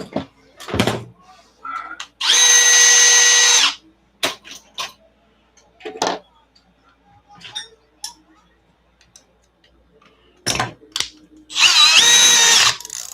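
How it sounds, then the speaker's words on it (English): A power drill spins a small tie rod end from an ARRMA RC car in two loud bursts of about a second and a half each, separated by quieter clicks, handling noises and some brief talk. "just put that little guy in a drill."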